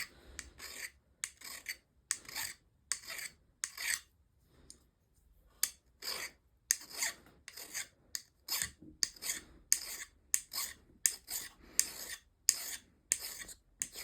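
A modern Stanley 151 spokeshave stripping paint from wood, heard as a series of close, crisp rasping strokes in an uneven rhythm with short pauses, with no talking.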